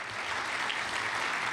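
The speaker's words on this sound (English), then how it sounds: "Give them a round of applause." A regional transportation summit audience gives a round of applause, a dense, continuous wash of many hands clapping at a steady level from start to finish, with no speech.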